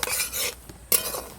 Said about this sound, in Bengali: তো আসুন তাহলে আগে সুজিটা ভেজে নিচ্ছি, সাদা তেল দিয়ে ভাজবো।